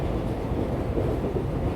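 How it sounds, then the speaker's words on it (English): A train glides steadily along the rails, a continuous soft low rumble of rolling wheels without breaks, evenly loud and close. "As the magical autumn train glides ever onward"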